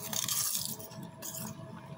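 Someone bites and chews homemade oven-baked kale chips, close-up crunching and soft, slightly chewy mouth sounds without any talk.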